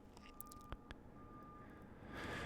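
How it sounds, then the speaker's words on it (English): A garbage truck reverses outside, giving faint, distant backing beeps in a steady repeating pattern, with a couple of small clicks nearby and a rising rush of noise at the end. "Are you able to hear that garbage truck?"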